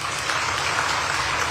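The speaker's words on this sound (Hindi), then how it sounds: "एक बार पुनः जोरदार तालियां।" An audience at a state-level National Statistics Day ceremony in Jaipur gives a brief round of loud, continuous applause, a dense even wash of clapping throughout.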